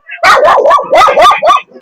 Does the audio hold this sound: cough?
no